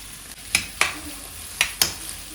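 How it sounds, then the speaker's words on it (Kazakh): Onion and garlic frying in oil in a pan, with a soft steady sizzle and several sharp stirring scrapes at irregular intervals. "Біз мұнда пиязды, чеснокты қуырып аламыз."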